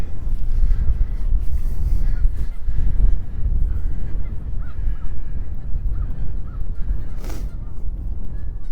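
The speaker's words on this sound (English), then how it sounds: "There's always birds here because people feed them in this parking lot." Geese and ducks gather at Wascana Lake on a snowy day, scattered honks and squawks sounding from a short distance over constant heavy wind and outdoor rumble.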